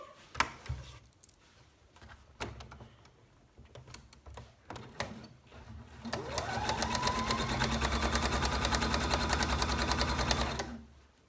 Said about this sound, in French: Donc on va coudre